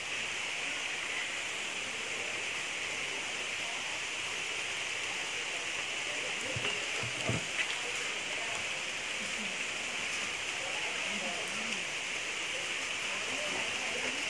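Heavy rain pours outside a café in a mountain town, a dense, even hiss of falling water heard from indoors, with a few faint thuds and brief sounds passing under it.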